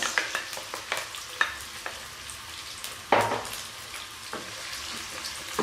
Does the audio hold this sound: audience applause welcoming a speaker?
no